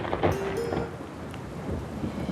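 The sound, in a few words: rain and thunder in a forest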